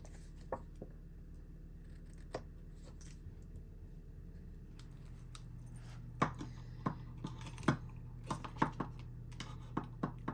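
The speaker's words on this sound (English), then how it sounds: "so we'll just trim that off from the back" Trimming excess card stock off the back of a Valentine's Day Z-fold card with a paper trimmer or cutter: a faint background hum, scattered soft clicks, then a denser run of crisp cutting snips and taps near the end, no speech.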